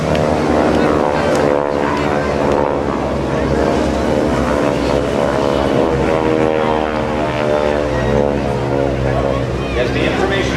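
GEICO Skytypers propeller aircraft flying at the 2010 Jones Beach airshow, a loud continuous engine drone with heavy low rumble that holds level for the whole stretch.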